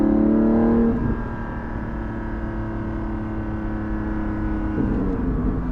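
A Porsche 718 GT4 engine droning steadily while driving, loud and close from inside the cabin, with a brief rev drop near the start before holding an even, sustained tone.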